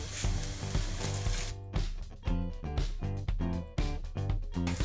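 Rice hits pan-roasting pine nuts and onions, bursting into a sizzle under repeated rhythmic scraping and stirring strokes, fairly close, with a musical tone running through the background.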